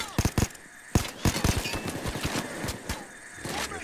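Rapid, overlapping gunfire from the heist shooter PAYDAY 2 crackles almost nonstop, with dense bursts of close shots and a few louder single cracks standing out.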